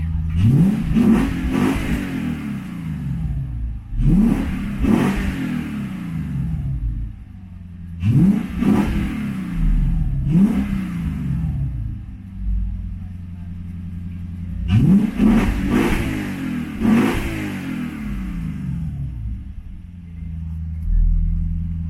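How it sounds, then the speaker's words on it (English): A Lexus IS F engine with PPE headers and a Joe Z exhaust revs up several times in repeated bursts, each surge rising and falling back to a steady idle rumble. "I'm gonna do a couple revs real quick."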